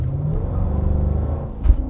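A 500 hp Mercedes-AMG G-Wagon engine rumbles and revs from a standstill in a burnout attempt, a loud, close, low roar that swells and falls over about two seconds and ends with a thump.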